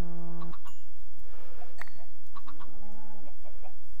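Chickens in a video game farm scene give a scattering of short clucks and squawky calls at varying distances, with no voices over them.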